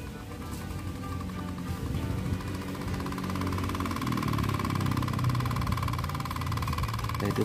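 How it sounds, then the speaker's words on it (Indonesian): Miniature rice-field tractor engine running, a steady low mechanical chugging and rattling hum that continues evenly throughout at moderate level, with no talk. "sekarang kita hidupkan mesinnya dulu"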